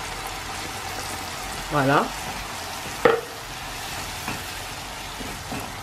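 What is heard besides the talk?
grated tomatoes added to a frying pan, sizzling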